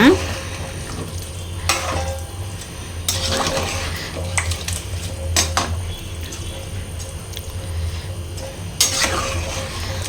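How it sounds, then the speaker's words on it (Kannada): Basmati rice is stirred into chicken biryani in a pot, with a continuous gentle scraping and sloshing churn and a few sharper knocks of the utensil against the pot. "ಸೊ ಜೊತೆಗೆ ಇವಾಗ ನಾನು ಬಾಸುಮತಿನೂ ಅಕ್ಕಿ ಹಾಕ್ಕೊತೀನಿ ಸೊ ಇವಾಗ ಒಂದೊಳ್ಳೆ ಮಿಕ್ಸ್ ಕೊಡೋಣ"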